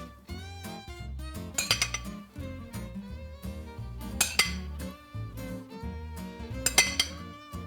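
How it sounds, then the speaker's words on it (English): A metal spoon clinks against a baking dish while sauce is spooned over spinach ricotta stuffed pasta shells, giving three bright clusters of clinks over steady background music. "you're just gonna spoon it right over top of the shells"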